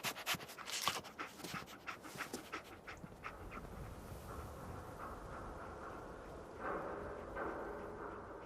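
Dogmeat, the dog companion in Fallout 4, panting in quick rhythmic breaths at the start, then fading into a low steady background hum.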